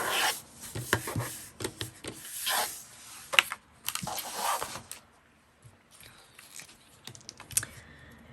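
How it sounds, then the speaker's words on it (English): Folded paper for a mini file book is burnished by hand, giving close, repeated rubbing strokes in uneven bursts before fading to quieter scrapes. "I'm just going to burnish it really good"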